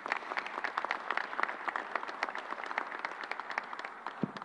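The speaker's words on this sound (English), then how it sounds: "Let's give them a round of applause." Applause for several reverends at a COVID-19 update held at the Javits mass vaccination site: a steady round of clapping from a modest crowd, moderately distant, continuing evenly for several seconds with no talk.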